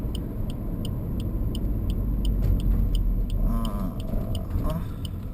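Engine of a 2019 Suzuki Vitara GLX revving hard in first gear toward about 5,000 rpm, a loud, low, rising drone heard from inside the cabin, with faint ticking and a brief tonal chirp near the end.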